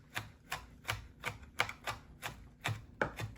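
A knife rough-chopping garlic cloves on a cutting board, about ten quick, even taps in a steady rhythm, close and fairly quiet with no talking.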